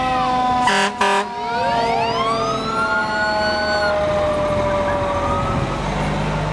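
A loud fire engine siren wails at a town parade, rising and falling steadily, with a brief air-horn blast near the start.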